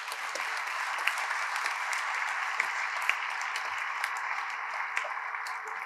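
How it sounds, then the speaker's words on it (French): An audience at a 2022 diploma ceremony applauds the families present, a steady, fairly soft wash of clapping with scattered sharper claps, continuing evenly throughout. "je vous propose de les applaudir"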